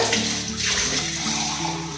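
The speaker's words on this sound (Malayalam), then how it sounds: "ഇനി കുറച്ച് വെള്ളം കൂടെ ചേർത്തിട്ട്" Water poured into a pot of papaya curry, a steady splashing trickle lasting about two seconds, close and fairly loud with no talking.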